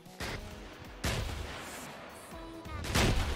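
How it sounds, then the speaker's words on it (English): Big booming explosions from a thermobaric launcher in the Arma 3 video game, three heavy blasts with broad rumbling tails spread across a few seconds, the last the loudest. "It also makes a very big explosion."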